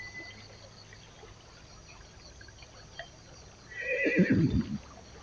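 A horse near a muddy river lets out one loud, close whinny near the end, after quiet outdoor background.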